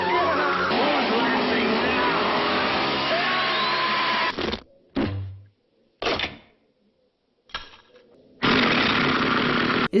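A chainsaw revs loudly and continuously in the horror film Evil Dead 2 (1987), cutting out into brief gaps and short bursts before roaring back at full volume near the end.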